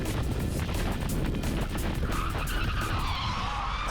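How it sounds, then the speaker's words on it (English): Kart tyres skid and screech as the brakes lock up in a K1 Circuit racing game, a harsh squeal rising over the engine noise for a few seconds. "I just locked up the brakes, pressed it way too hard, and almost ran into that guy in front of me."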